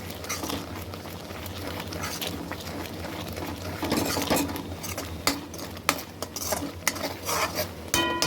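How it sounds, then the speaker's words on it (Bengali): Cooked lentil dal stirred with a ladle in a metal pot, giving close scraping and clinking strokes with soft wet patter, louder bursts toward the end and no voices. "এই ডালটা আমি হাতা দিয়ে নেড়ে দেবো, কাটা দেবো না।"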